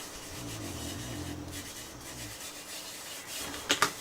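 Soft, steady rubbing of a hand pressing a double-sided adhesive sheet flat onto a paper card, close and quiet, ending with a couple of light taps.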